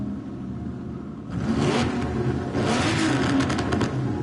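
A car engine in Gran Turismo 7 revs up sharply, then holds a loud, steady, whirring drone with a few rises in pitch, close and alone with no talk.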